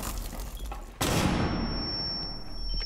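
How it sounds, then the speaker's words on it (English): A video game gun fires a loud, sharp shot that cuts in abruptly and rings on in a long decaying tail, with faint game noise before it and no talking. "This gun sounds like it hits so much harder than it does."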